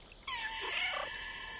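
A cat meows once in the video game Stray, a clear, drawn-out, rising and falling cry heard close and alone over faint background hiss.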